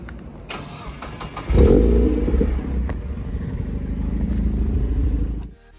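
A Mazda MX5 mk2.5 Montana Edition starting up: a brief starter crank, then the engine catches with a loud burst and settles into a steady close idle before cutting off sharply.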